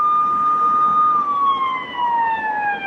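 A police car siren wails loudly and alone on a freeway, its steady tone sliding gradually downward in pitch.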